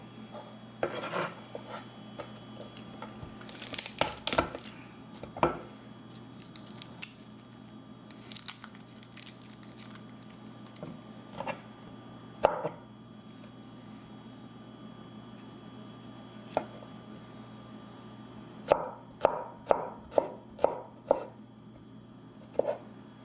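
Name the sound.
garlic being crushed with a pestle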